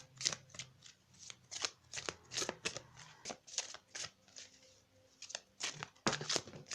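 Tarot cards shuffled by hand in quick riffling bursts and soft slides, close and fairly quiet, running continuously with no speech.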